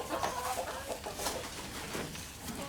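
Hens on a farm in northeast Thailand's Isan region clucking in a dense, steady chorus, close by and fairly loud, with no voices over them.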